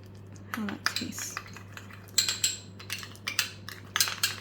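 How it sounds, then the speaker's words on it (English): Chipotle mayo stirred in a bowl with a utensil, giving a run of light clinking, scraping taps against the dish, irregular and close, with quiet gaps between bursts. "gonna mix that up and see how that tastes"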